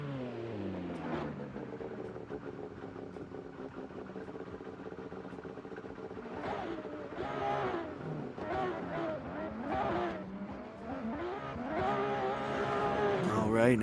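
BMW E93 and Nissan S14 cars in a virtual drift racing game, engines revving and droning with rising and falling pitch, tires squealing as they slide, steady and continuous under commentators talking.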